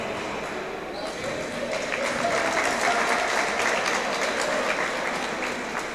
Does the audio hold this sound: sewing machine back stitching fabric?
no